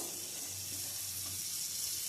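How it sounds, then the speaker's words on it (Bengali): Steady, soft sizzling of pumpkin and potato frying with onion and garlic in a pan, a continuous crackle with a low hum underneath, no voices. "এই কুমড়ো আর আলুটাকে একটুখানি পেঁয়াজ আর এই রসুনটার সঙ্গে একটুখানি নেড়ে নেব"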